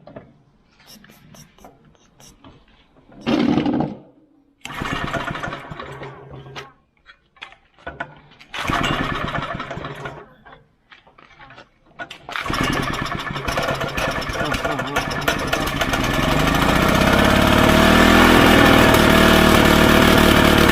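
A cold Honda water pump engine is cranked in short bursts with pauses, then catches and runs steadily, growing louder and holding a loud, continuous drone for the last several seconds, with faint voices early on.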